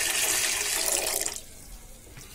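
Water pours steadily into 300 grams of sugar in a pan to make sugar syrup for gulab jamun, a continuous splashing stream that stops partway through, leaving a quiet room.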